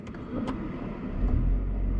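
A BMW E60 M5 with a V10 engine starts up quietly, with a brief crank and a low rumble settling into a smooth idle close by.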